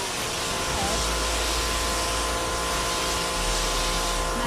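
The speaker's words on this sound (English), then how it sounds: "this is a 1500 watt electric pressure washer" A Homdox 1500 watt electric pressure washer sprays through its green 25-degree tip, giving a steady, loud, broadband hiss with a low motor hum beneath it, unbroken from start to finish.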